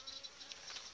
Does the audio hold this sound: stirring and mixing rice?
no